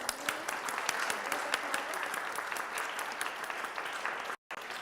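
Dense, continuous applause from a conference audience, many hands clapping steadily at a moderate level with a brief cut near the end and no speech.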